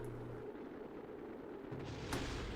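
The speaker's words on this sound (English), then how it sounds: "Oh, the instant explosion." Explosion in the Kerbal Space Program video game, a sustained rumbling blast with a brief sharp burst near the end, heard alone without talk.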